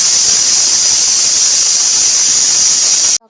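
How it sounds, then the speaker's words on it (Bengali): A pressure cooker whistles while khichuri cooks on a gas flame, one loud, steady, piercing steam hiss sustained for about three seconds before cutting off abruptly. "তখন এরকমভাবে ৫-৬টা সিটি বেজে যাবে"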